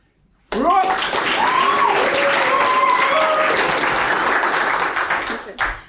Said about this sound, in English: let's make some noise for our newest promotees